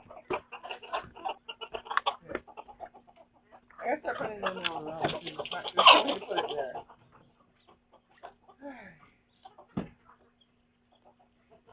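Pet therapy birds chirp and cluck in short, busy bursts through a morning indoors, growing denser midway, while a person talks nearby.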